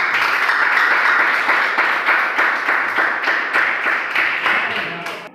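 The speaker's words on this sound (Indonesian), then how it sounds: "Oke, bagus, tepuk tangan dulu untuk Pak." Applause in a classroom, with pupils clapping for their teacher: loud, close hand claps in a quick, uneven patter that runs steadily for several seconds, then eases slightly toward the end.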